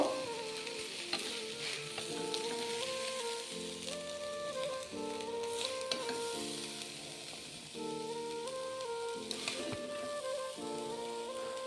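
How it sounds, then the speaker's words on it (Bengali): Grated coconut fries in a pan with a constant crackling sizzle, close and fairly quiet, while a soft musical tune plays along in the background. "দেখো নারকেলটাকে আমি এইভাবে ভেজে নিয়েছি তুলে নেবো"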